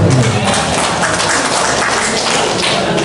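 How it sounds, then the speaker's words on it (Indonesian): A crowd at an installation ceremony for a retirees' association board in Temayang, Bojonegoro, gives dense, continuous applause. The clapping is loud and close, with some scattered thumps. "Tepuk tangan kepada beliau."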